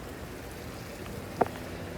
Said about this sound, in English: A little rainy today.